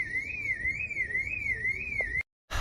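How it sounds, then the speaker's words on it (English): A car alarm wails loud and close in a steady rising and falling siren for about two seconds, then cuts off abruptly into brief silence before the background noise comes back. "Car alarms."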